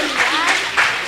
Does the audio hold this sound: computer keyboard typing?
no